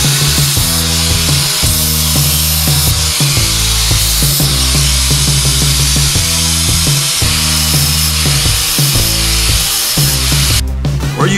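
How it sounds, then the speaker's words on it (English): An angle grinder with a 120 grit flap disc polishing sheet metal gives a loud, continuous whirring grind that keeps cycling through steady pulses for the whole stretch, close and unbroken. "You can use a flap disc with 120 grit to polish your metal."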